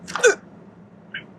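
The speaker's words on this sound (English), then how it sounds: "Sorry about all those hiccups." A runner gives a sharp, close hiccup followed by a softer, brief second one after a short pause, with no talking.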